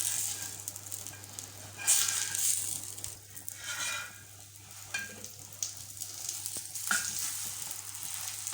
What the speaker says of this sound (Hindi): और दूसरी साइड को भी 1 मिनट के लिए पकाएंगे